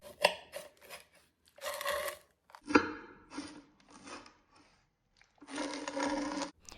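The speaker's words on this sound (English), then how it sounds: "I'm going to cut into them, but first let me move one out of the way so I can cut a little better here." A knife saws through avocado slices on air-fried egg toast, giving close, soft scraping and crunching strokes in irregular bursts separated by short silences.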